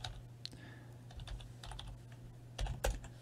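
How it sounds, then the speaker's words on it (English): Quick, irregular keystrokes tapped on a computer keyboard, fairly quiet and close, with a few louder clustered strikes near the end. "All right, a lot of typing."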